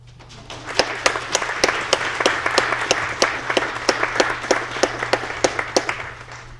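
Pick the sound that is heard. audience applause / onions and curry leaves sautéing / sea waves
audience applause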